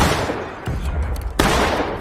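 Musket gunfire in the Civil War shooter War of Rights cracks out in dense volleys, with sharp shots overlapping amid continuous distant firing, loud and without voices.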